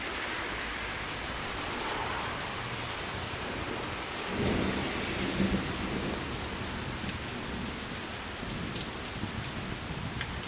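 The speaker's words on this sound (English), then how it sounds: "It was starting to rain." Steady rain falling on an alpine road during a motorcycle trip, a dense continuous hiss filling the scene, with a low rumble partway through.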